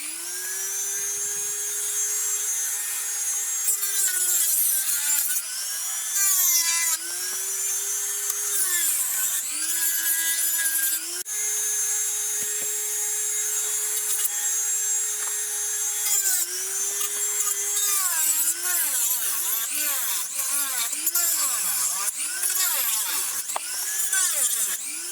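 Dremel rotary tools and sharp knives cutting corners off a Numatic vacuum cleaner part, heard as a close, high-pitched whine that holds steady pitches and then dips and rises with the load across the whole stretch.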